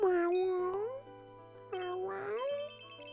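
A cat meows downstairs behind a closed door, giving two drawn-out, wavering meows with a pause between them, muffled and clearly audible.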